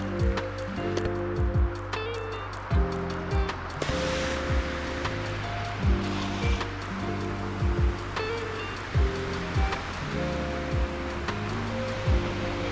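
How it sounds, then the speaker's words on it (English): Ocean waves wash against a heavily loaded sailing ship in the game Sailwind, a continuous rushing surf under repeated tonal game sounds and occasional clicks and creaks. "you can deal with these waves"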